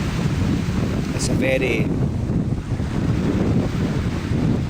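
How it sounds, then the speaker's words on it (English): Sea water crashing against rocks along the coast at sunset, a steady rushing wash heavily buffeted by wind noise on the microphone, with someone speaking briefly over it. "listening to the water crashing the rocks"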